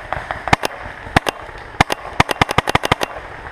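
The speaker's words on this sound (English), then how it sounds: "Shoot at him, Rick." Paintball guns fire during a paintball game, sharp dry pops in scattered single shots and then a rapid volley of about a dozen close, loud cracks, with no talk over them.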